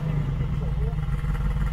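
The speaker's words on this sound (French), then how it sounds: "j'aime beaucoup le bruit qu'on entend au niveau des échappements" A modified car engine idling cold with a freed-up, open exhaust, a steady low droning rumble that stays loud and close throughout without revving.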